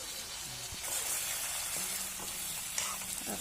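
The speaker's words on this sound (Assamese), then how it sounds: "আকৌ অকণমান লৰাই ভাজি থাকিম এনেকৈ।" Pork frying in a pan after a little water is added, with close steady sizzling and a few stirring scrapes.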